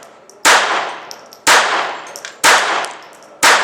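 A J-22 .22lr pistol fires four sharp, evenly spaced shots about a second apart, each a loud crack with a metallic ring that fades quickly. No one speaks.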